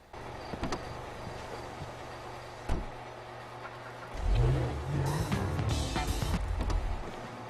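Car driving and parking in a garage in the video game GTA 5, with an engine revving and accelerating at moderate level, a thud midway, then louder rumbling as the car pulls in and settles.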